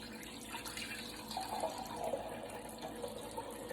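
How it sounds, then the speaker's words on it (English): Kefir water drains steadily from fermented kefir grains, a continuous close trickle of liquid with faint splashing and no talking. "I just want to drain off the kefir water from the grains."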